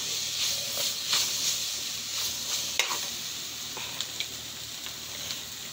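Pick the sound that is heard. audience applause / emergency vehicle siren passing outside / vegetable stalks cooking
vegetable stalks cooking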